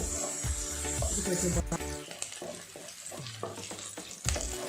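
Onion frying in oil gives a close, crackling sizzle with some stirring, and a voice speaks over it partway through.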